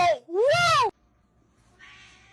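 A cat gives a loud, close, drawn-out meow with rising and falling pitch, followed by quieter faint sounds.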